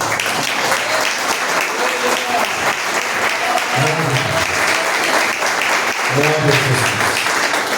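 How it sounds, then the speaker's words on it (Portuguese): A church congregation claps steadily and loudly for the whole stretch, a dense continuous wash of applause with a voice speaking over it at moments. "E as palmas louvam e engrandecem só o nosso Deus."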